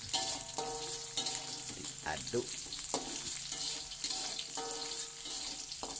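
Lompok, a traditional Padang stir-fry, hisses steadily in a hot pan while being stirred, with repeated scraping strokes rising above the constant close sizzle.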